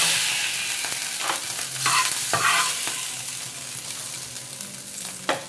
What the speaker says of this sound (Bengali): এবার কাঁকড়াগুলোকে লাল লাল করে ভেজে নিতে হবে।